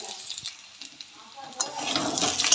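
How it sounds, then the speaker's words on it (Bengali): Potatoes for a meat curry fry in a small wok, hissing and sizzling steadily with occasional stirring scrapes, the sizzle swelling louder toward the end. "এখানে মাংসের আলু ভাজা হচ্ছে"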